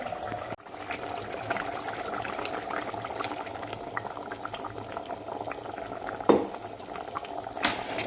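A pot of goat trotter soup with ground coconut bubbles steadily at a rolling boil, with a couple of faint clinks of a utensil against the pot.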